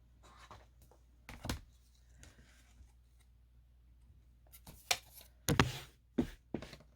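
Ruler set down and a fabric quilt block trimmed to 8 inches square: scattered sharp clacks and cutting strokes in a quiet room, with a cluster of louder knocks and slices toward the end.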